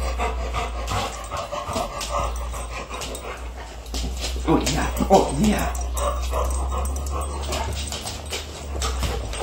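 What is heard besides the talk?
dog panting and whimpering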